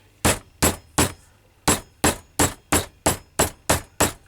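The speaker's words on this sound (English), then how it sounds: "hammer that down" Eleven sharp hammer blows strike down on a leather slip lead, ringing with a metallic clang, steady and close, with a single brief pause after the third strike.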